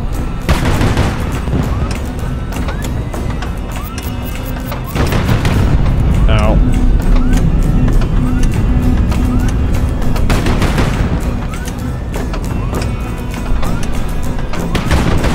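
Missile strikes and explosions in the HighFleet war game, loud booming blasts and gunfire-like bursts over a dense rumbling battle bed, with a few sharp impacts standing out throughout.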